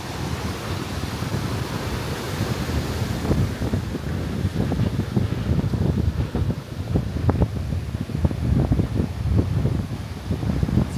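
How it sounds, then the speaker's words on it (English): Strong wind buffets the microphone in gusty, rumbling bursts on Varkala beach in Kerala, India, with a wash of surf faintly underneath and no voices. "It's very windy."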